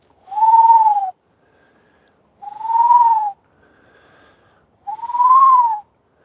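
A person imitates a bird call with their voice, producing three separate whistled hoots, each about a second long, evenly spaced by pauses, close and clear with no other sound.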